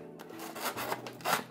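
Scissors snip and tear through stiff plastic blister packaging to release a figure's base, giving close, scratchy crinkles and cuts in irregular bursts with no talking.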